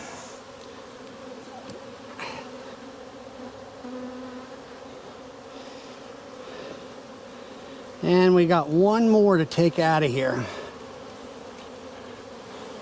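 Dense, continuous buzzing of many honey bees close by in a queen cell-builder hive, a low droning hum throughout, with someone speaking briefly over it partway through.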